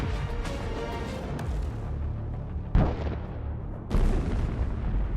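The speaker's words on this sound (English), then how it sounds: "There is a very strong explosion, and the target is burned to the ground." Heavy blasts from an FPV drone strike on an armoured personnel carrier in a combat zone: a rumbling roar broken by two sharp, loud bursts, the second following about a second later.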